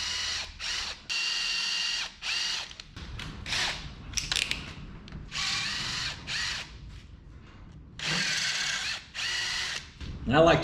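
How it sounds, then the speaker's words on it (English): A power drill bores out set screws on the steering shaft of a 1930 Model car, whirring in several loud, close bursts separated by short pauses. "I like to drill them out that way, them set screws"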